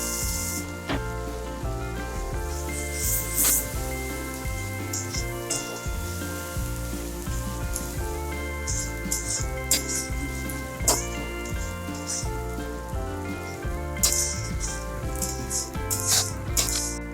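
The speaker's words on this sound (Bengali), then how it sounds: "পেঁয়াজ এবং টমেটো ফ্রাই হয়ে গেছে" Onions and chopped tomatoes frying in a pan for paneer butter masala, a continuous close sizzle with occasional crackles and utensil rattles, heard beneath steady tonal background music.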